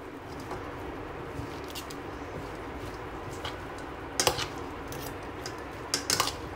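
Salad ingredients being mixed with a spoon in a bowl, a faint soft rustle with a few sharp clinks of metal against the dish near the end, with no talking.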